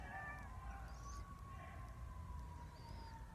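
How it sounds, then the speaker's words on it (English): Distant sirens wail with slowly rising and falling tones, faint and steady over a low background hum. "you hear the sirens?"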